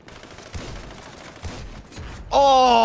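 Gunfire in the game GTA Online crackles in a few scattered shots, followed by a sudden loud burst near the end.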